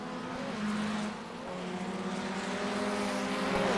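Formula 1600 race cars lapping Oulton Park in iRacing, several engines droning together at high revs with shifting pitch as a small group approaches a chicane, steady and fairly loud, no voices.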